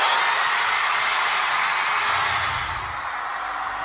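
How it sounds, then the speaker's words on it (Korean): A huge stadium crowd of around 150,000 roars and cheers wildly for Blackpink, a broad continuous wall of screaming that stays loud and distant-sounding, easing slightly near the end, with no speech. "이 말이 끝나자마자 미친 환호성이 울려 퍼지고"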